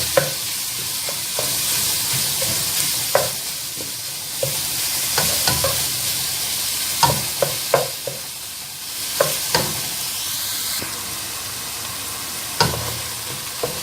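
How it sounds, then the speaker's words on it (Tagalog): Filipino-style homemade spaghetti sauce seasoned with salt, black pepper and white pepper is stirred in a hot pan: a steady close sizzle with repeated spoon scrapes and clinks against the pan, no talking. "Haluin na natin ulit."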